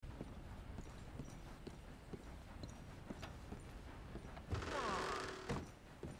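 Horse hooves clip-clop at a steady walking pace in the video game Red Dead Redemption 2, quiet beneath a low ambient bed, followed by a brief louder rustling thump near the end.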